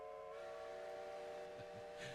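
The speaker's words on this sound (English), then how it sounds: "There's the whistle." A steam whistle sounds in a sustained, hissing tone, faint and somewhat distant, holding steadily throughout.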